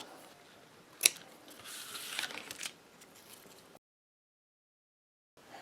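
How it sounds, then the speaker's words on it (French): Scissors cut a piece of ribbon close by: one sharp snip, then soft rustling and a few quieter cuts before the sound drops to silence, returning faintly at the very end. "je vais découper un morceau de ruban"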